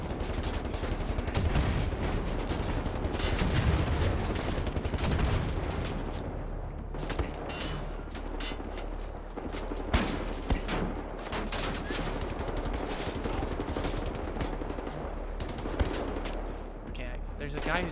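Repeated gunfire rings out in Wolfenstein: The New Order, with single shots and rapid bursts popping throughout over steady game ambience while people talk over the action.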